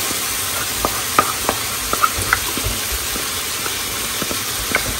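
Blended pointed gourd peel sizzling in a pan, a steady low hiss with scattered small pops and spatters and a faint background hum, no one talking.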